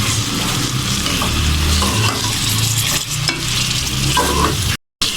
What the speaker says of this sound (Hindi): अच्छी तरह चिकन को और मसालों को मिक्स कर दें।